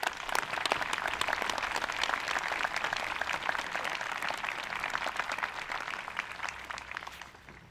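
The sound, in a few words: audience applause welcoming Commander McSorley at Veterans' Day ceremony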